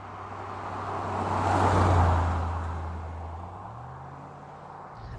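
A Land Rover Discovery 2 with its gearbox in sports mode drives along, its engine hum and road rumble rising to a peak and then easing, heard steadily from inside with no talking.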